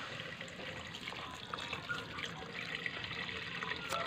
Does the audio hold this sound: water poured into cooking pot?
yes